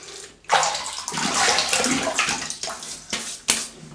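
Water runs from a tap to wet whiskers before a shave, a close, steady splashing gush that varies in strength with brief interruptions as hands move through the stream.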